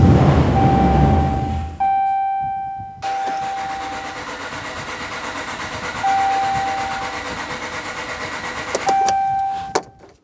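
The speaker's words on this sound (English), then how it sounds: "The engine might start, but if it does, it'll stumble really quickly and die out" The 6.4L HEMI V8 in a 2011–2018 Ram 2500 with faulty fuel injectors cranks repeatedly in short bursts, stumbling and failing to catch, while a steady warning chime sounds through each attempt.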